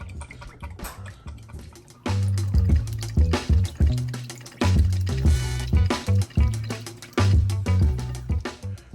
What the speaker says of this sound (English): I'm cracking my eggs for my egg wash. Adding a little milk. And just mix it up like you're making scrambled eggs